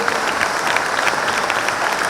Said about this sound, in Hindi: ताली की गड़गड़ाहट से कीजिए।